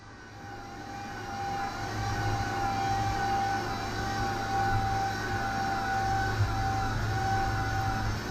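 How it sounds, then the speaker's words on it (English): The air pump on a 2005 Mazda RX8 runs with a steady whirring whine and a constant low drone, nearby and unchanging for the whole stretch. "That's the air pump."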